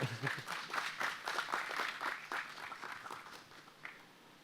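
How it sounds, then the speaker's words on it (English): Audience applause for a speaker closing a morning conference session on WebRTC and Go, a steady patter of many hands that gradually thins and fades toward the end. "Then let's give Sean a big round of applause"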